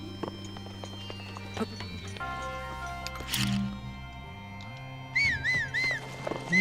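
Horse galloping in the video game Zelda Breath of the Wild, with steady clip-clop hoofbeats under game music and effects. Brief bright chiming tones enter near the end.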